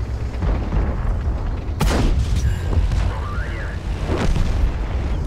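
A tank cannon fires in World of Tanks during a tier 8 battle, with a single loud booming shot ringing out mid-clip over rumbling engine and battle noise. Faint tonal effects follow the blast.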